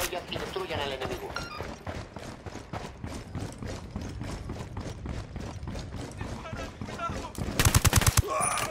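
Gunfire in the video game Ghost Recon Wildlands crackles in dense, rapid automatic bursts throughout, ending in a louder volley, with voices talking over the shooting.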